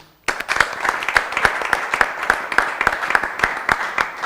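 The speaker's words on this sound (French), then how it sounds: "On va applaudir bien fort nos invités aujourd'hui qui sont venus partager leur avis avec nous." A studio audience on a French-language talk show applauds its guests with steady, loud clapping that starts abruptly and continues throughout, with faint talk underneath.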